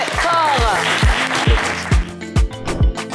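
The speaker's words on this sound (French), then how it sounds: "on vous applaudit très, très fort" Game show audience of Le Coffre Magic claps for a departing guest, a burst of applause sitting under and between a host's speech, with heavy studio music beats thumping through.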